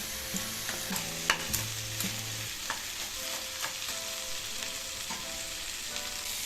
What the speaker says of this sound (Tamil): 1/2 கிலோ நண்டை அந்த மசாலாவோடு சேர்த்து நல்லா பரட்டி விட்டுக்கலாம்.